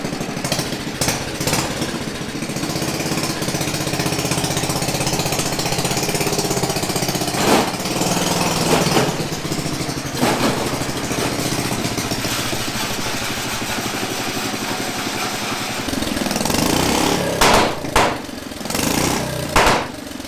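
A homemade tractor built from a motorcycle engine runs steadily at close range, a loud rough chugging drone with a few sharp knocks and revs toward the end.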